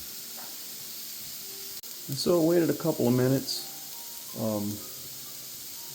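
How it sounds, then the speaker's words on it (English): Frozen vegetables in a pan as the water cooks off, a steady soft hiss and sizzle running underneath someone speaking briefly. "Still see a little steaming, the water's going off"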